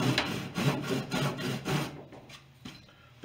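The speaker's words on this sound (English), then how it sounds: "we're going to cut a little bit off with the handsaw" A handsaw cutting wood for a bushcraft spoon, five or six loud rhythmic rasping strokes close by, then a pause with a few faint taps and a knock at the end.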